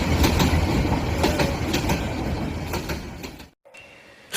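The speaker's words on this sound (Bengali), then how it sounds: "দুজনেই ট্রেনে উঠে পড়ল।" Cartoon train rolling along rails in a Bengali horror cartoon, a loud steady rumble with clickety-clack rhythm and faint squeal, cutting out abruptly near the end into a quieter tone.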